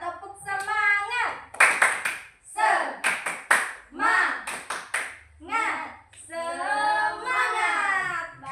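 A small group of children in a classroom does the tepuk semangat routine: bursts of quick, crisp hand claps alternate with loud, chanted young voices in a steady call-and-clap rhythm.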